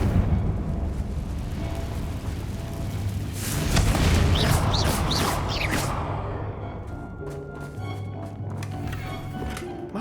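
A Confringo explosion curse in Hogwarts Legacy goes off with a loud booming, roaring burst and whooshing debris that swells midway, then settles into a lower rumble with clattering fragments.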